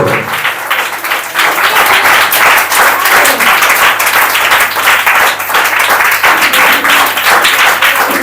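Loud, sustained applause from a crowd at a church felicitation ceremony in Borukulagondi, dense clapping running steadily through the whole stretch with no break.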